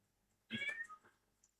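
A house cat gives one clear, fairly loud meow close to the microphone, with a faint softer chirp shortly after, heard over quiet background during a Battlefield 6 esports cast.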